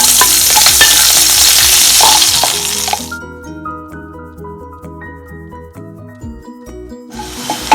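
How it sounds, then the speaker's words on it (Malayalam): Chopped onions hit hot oil with mustard seeds in a pan for Kerala-style egg theeyal, giving a loud, dense sizzle with stirring scrapes for about three seconds before it gives way to tonal music. "അതിലേക്ക് നമ്മള് ഉള്ളിയാണ് കേട്ടോ ഇട്ട് കൊടുക്കുന്നത്."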